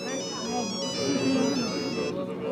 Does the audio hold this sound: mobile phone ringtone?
yes